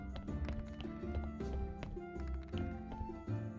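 Horse hooves clip-clop in Graveyard Keeper, a steady run of hollow taps in a brisk rhythm over soft game background sound, close and clear.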